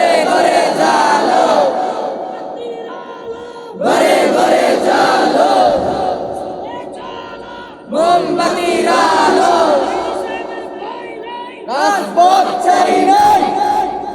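A large crowd at a Victory Day religious sermon gathering roars a slogan in unison, with loud sustained collective shouts in about four bursts separated by brief dips.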